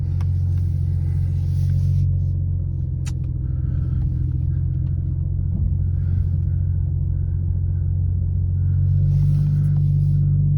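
A BMW G42 M240i with a muffler delete idles in reverse, a deep steady low rumble filling the whole stretch, close and constant with only slight swells.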